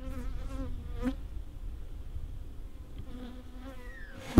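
Wild honey bees buzz around their hive while the splits are being moved. The hum rises and fades as single bees pass close by, with quieter buzzing in the background and no voices.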